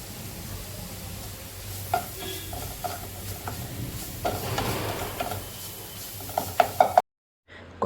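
Onions with ginger garlic paste stirred and sautéed in a pan for aloo paratha filling, with a low steady sizzle and scattered clicks and scrapes of a spoon against the pan, ending in a brief silence.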